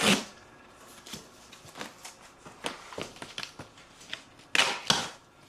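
Parcel of Harley-Davidson Road Glide trike parts being torn open, a series of sharp cardboard and tape rips and crinkles, irregular and close, with louder tearing bursts near the end.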